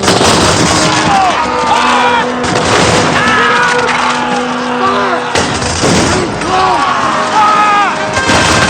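Musket volleys crack out in a period battle scene from a Napoleonic-era drama, with several sharp, loud reports amid shouted commands, crowd noise and swelling music throughout.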